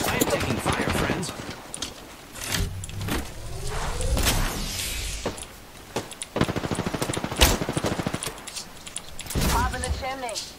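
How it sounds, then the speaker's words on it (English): Rapid gunfire bursts and single shots crack through a video game firefight, with mechanical clatter between them and a player talking over the action. "I'm getting shot at."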